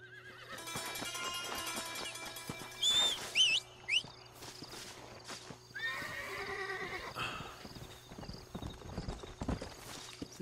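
A horse in the Red Dead Redemption video game neighs and whinnies loudly, with clip-clopping hooves and assorted game ambience around it, fairly quiet overall.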